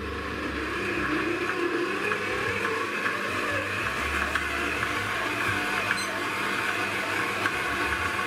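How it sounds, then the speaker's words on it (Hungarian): A kneading machine works a one-kilogram batch of sourdough white bread dough, producing a steady, continuous motor hum and churning drone throughout, close and even in level. "El is indítom a dagasztást."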